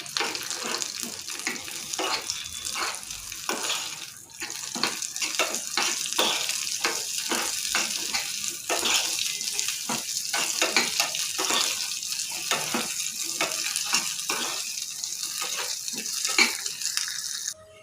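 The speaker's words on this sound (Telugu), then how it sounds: "జీడిపప్పు కిస్మిస్ వేసుకోవాలి దోరగా వేపుకోవాలి" Cashews and raisins frying in a pan for coconut payasam, a continuous crackling, hissing sizzle with irregular bursts of stirring throughout, heard alone without talk.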